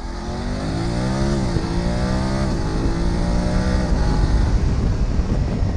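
A BMW F850 adventure motorcycle engine revs and accelerates, a loud, steady rising drone with shifting pitch, close and continuous, with no talking.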